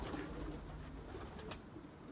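Soft, low cooing close by from a racing pigeon hen held in the hand, a quiet murmuring call that carries on steadily over a faint background.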